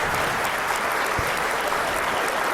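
An audience applauds in a dense, steady wash of many hands clapping, loud and sustained throughout.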